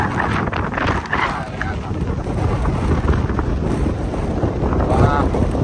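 Strong wind buffets the microphone in a steady broadband roar, with a loud rushing quality throughout and no clear pauses.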